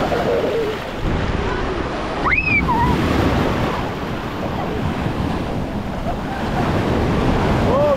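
Big ocean waves roll and break at Panama City beach as a steady, loud surf roar, with wind buffeting the microphone and a brief call rising over it.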